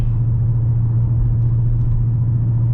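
A 2018 Dodge Challenger R/T 392 cruising in fourth gear at 1800 RPM and about 60 km/h, with a steady low engine drone and road rumble filling the cabin, unbroken and alone without voices.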